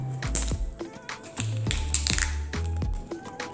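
A knife cuts raw salmon into small pieces on a cutting board. The blade makes repeated close, crisp taps and dull thumps in a steady rhythm, about one stroke every half second.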